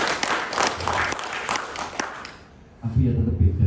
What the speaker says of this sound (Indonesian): Tepuk tangan untuk Bapak Ibu ya